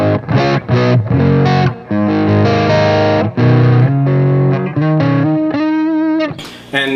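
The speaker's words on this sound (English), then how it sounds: "I can roll the volume down a little bit." Distorted electric guitar played with the volume knob rolled down slightly, chords and single notes ringing with a gritty, slightly tamed crunch, close and steady, ending on a brighter sustained run.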